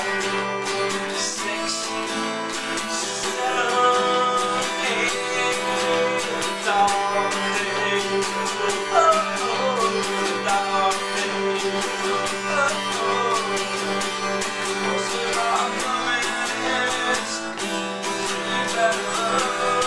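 An acoustic guitar strums the chords of a song in a steady down-up strum pattern, continuous and dense, close and fairly loud for about twenty seconds with no talking.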